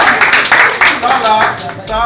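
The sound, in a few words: applause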